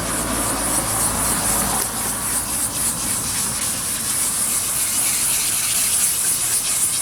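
Wet sandpaper is rubbed against a fogged plastic headlight lens in circular strokes, giving a continuous, close, gritty hiss with a steady scrubbing texture and no pauses.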